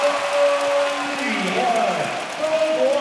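A crowd in a basketball arena applauds and cheers with a dense, sustained wash of clapping, while a commentator talks over it and a tonal whistle or horn sounds intermittently.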